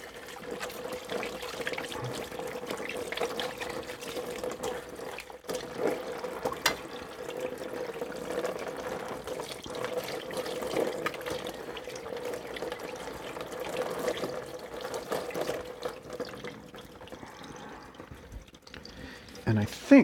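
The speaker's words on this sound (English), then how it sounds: "And some warm soapy water." Warm soapy water runs steadily into a kitchen sink while hands and a plate are washed, a continuous trickle and splash with some clatter, with a person talking over it now and then.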